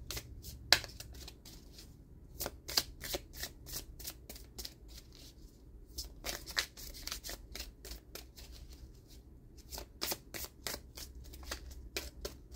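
Tarot cards being shuffled, a rapid run of crisp riffling flicks and soft slaps repeating in bursts throughout, close and fairly quiet with no voices.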